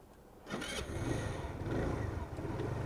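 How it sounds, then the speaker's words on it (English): A Lexmoto Titan 125cc motorcycle engine cranks and catches, settling into a faint mid-pitched running rumble, heard at some distance with low background noise. "We're just going to start this one up."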